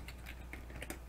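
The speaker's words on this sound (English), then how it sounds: "Then I'm going to type some text." Several quick, faint keystrokes click on a computer keyboard, an irregular burst of typing in a quiet room.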